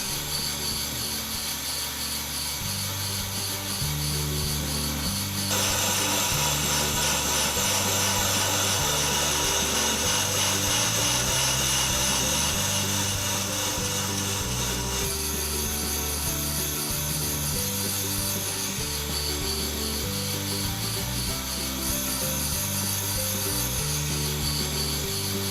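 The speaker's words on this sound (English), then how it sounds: "Now we set the machine to cut the rotor." A brake lathe cuts a brake rotor during a brake job, giving a steady, continuous grinding and scraping drone that holds loud and unbroken throughout, with a brighter metallic hiss entering after the first few seconds.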